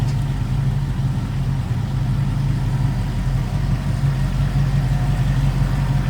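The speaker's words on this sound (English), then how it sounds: "It's running smooth, and it's got V8 power" A 1965 Ford Mustang coupe's V8 engine idles steadily and close by, a deep, even rumble with a constant throb and no change in pace.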